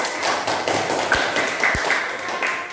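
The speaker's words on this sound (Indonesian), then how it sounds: "Tepuk tangan dulu." Students applaud in a classroom with a scattered handful of sharp, uneven claps and taps, close and fairly sparse rather than a full ovation.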